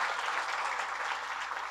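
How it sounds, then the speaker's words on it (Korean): An audience at a church family worship service claps warmly to welcome a missionary, a dense, sustained burst of applause from a crowd in a hall, steady throughout with no talking. "선교사님 나오실 때 여러분 따뜻한 박수로 환영하겠습니다."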